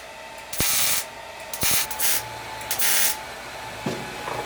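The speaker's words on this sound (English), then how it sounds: "I'm gonna pulse weld this" Short bursts of pulse welding thin 20-gauge steel onto 1/8 inch steel, each blip a crackling hiss lasting under a second, several in an uneven stitching rhythm, close and fairly loud against a steady background hum.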